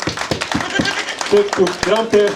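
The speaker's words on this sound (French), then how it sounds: "Vous voudrez applaudir pour ce grand-père" Applause from mourners at a funeral gathering, scattered sharp hand claps in an uneven rhythm under loud talk and voices, close and fairly strong.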